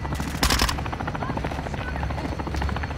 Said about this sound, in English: I think this helicopter's picking us up.